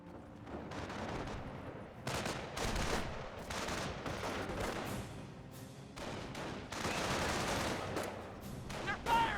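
Dense battlefield gunfire from the World War II strategy game Company of Heroes: overlapping rifle and machine-gun bursts with heavy explosive thumps, loud and nearly continuous, with short lulls between volleys.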